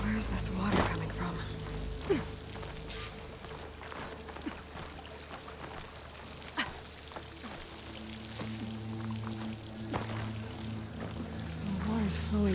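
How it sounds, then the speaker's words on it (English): Water pours and trickles steadily into a rock wall in Horizon Forbidden West, near a waterfall, with a soft continuous splashing wash and scattered drips, quiet and ambient with faint background tones. "The water's flowing into the wall, towards a hollow hide."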